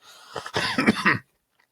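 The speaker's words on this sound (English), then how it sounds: "I've had a dreadful cough for the past month or so." A single harsh, close cough burst with a throaty rasp from a persistent month-long cough, followed by silence.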